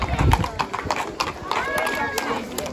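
Horse hooves clip-clopping at a horse beauty show during a village festival in Kleio, Lesbos, irregular and close, under steady crowd chatter and a voice talking.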